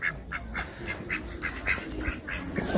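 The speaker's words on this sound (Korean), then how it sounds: "오리 가족들이 있었다." A family of ducks quacks in a quick, fairly regular series of calls, moderately near but quiet against soft outdoor background noise at a bird park.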